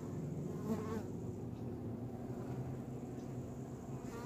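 Honeybees buzz around an open beehive in a continuous soft, low drone that stays faint and steady, with no speech over it.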